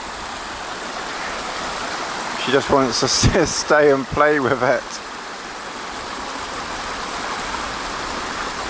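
A stream runs steadily as a broadband wash of water from start to finish, with a dog playing in it on Dartmoor; a person talks over the flow for a couple of seconds midway.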